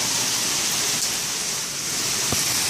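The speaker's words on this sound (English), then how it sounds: "The bypass in it is raining so hard." Heavy rain pours down steadily in a dense, continuous hiss that runs unbroken from start to finish, loud and close, with water overwhelming a street gutter and drain.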